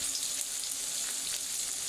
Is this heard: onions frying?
yes